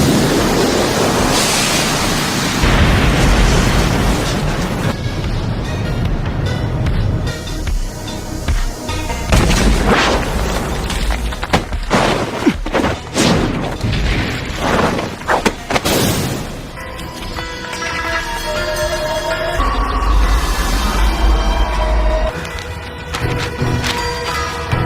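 Fire Style jutsu explosions in a Naruto anime battle come as a dense series of booms and thuds over a roaring, surf-like rush of fire, loud and continuous with sharp peaks.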